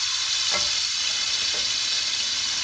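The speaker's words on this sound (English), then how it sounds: "And we will make it golden brown now. As you can see, the onions have become quite dark." Sliced onions fry steadily in oil for a chana pulao, cooking toward golden brown with a constant close sizzle and a few faint stirring scrapes, no voices.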